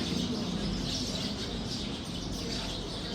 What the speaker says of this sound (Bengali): এগুলো কিন্তু ফুল না সবগুলাই জীবিত পাখি